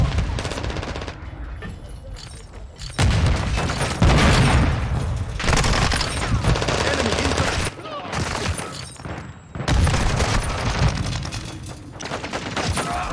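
Dense gunfire in Call of Duty: Modern Warfare 2, loud overlapping automatic bursts and booms in a sustained barrage, with game voice callouts mixed in.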